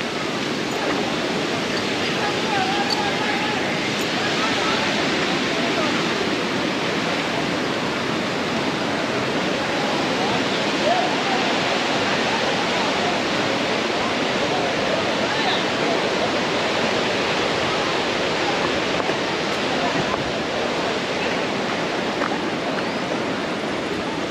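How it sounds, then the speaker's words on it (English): Thiruparappu Waterfalls in Kanniyakumari, Tamil Nadu, a river cascading over falls, heard close as a constant, loud, dense roar of rushing water that never lets up. "you can get closer to the waterfall or like river falls"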